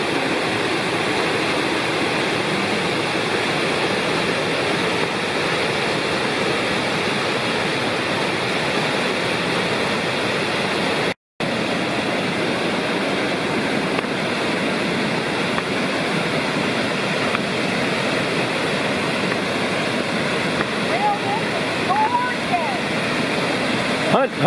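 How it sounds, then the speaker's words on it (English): A constant, broad roar of Huntfish Falls pouring into a pool in North Carolina's Lost Cove wilderness, close and loud, steady for the whole stretch with only a brief cut. "It's a beautiful waterfall and pool below."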